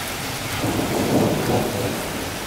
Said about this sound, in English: So there's really a lot of thunder right now